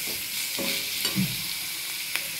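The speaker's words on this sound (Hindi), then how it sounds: "जब तक वो ब्राउन नहीं होगा तब तक मैं ऐसे ही फ्राई करता रहूँगा।" A pan sizzles as ingredients for chicken biryani are fried and stirred until brown, with close scraping strokes over a steady hiss and no talking.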